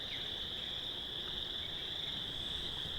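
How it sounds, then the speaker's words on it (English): Frogs croak at night in a continuous high, trilling chorus that stays steady throughout, set against a constant wash of background noise. "You can hear the frogs in the background."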